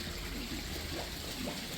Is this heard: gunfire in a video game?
no